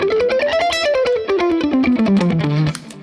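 Electric guitar with light distortion running a fast Dorian scale three notes per string, an even stream of quick picked notes rising then descending, clear and close with no talking.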